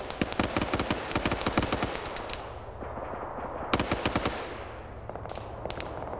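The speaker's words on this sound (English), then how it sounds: "Now you're having tracer fire return." Sustained bursts of machine gun and tracer fire in a military video game, rapid rattling volleys that come in waves, with short pauses between a heavy first stretch and later flurries, loud and fairly close.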